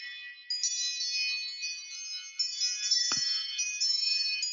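A mobile phone ringing during a chemistry lecture, a continuous high electronic ringtone melody repeating in short phrases, moderately loud and steady, with one brief thump partway through and no speech over it.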